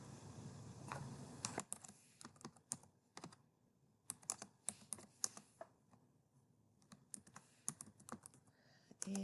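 Quiet, close keystrokes on a computer keyboard sound in irregular clusters of sharp clicks with short gaps between them.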